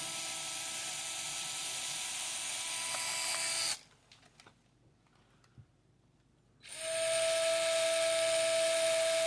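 An FMS FCX18 RC crawler fitted with Batrazzi tracks runs at low speed, giving a steady high-pitched motor whine that cuts out for about three seconds mid-run and then resumes with a sharper tone.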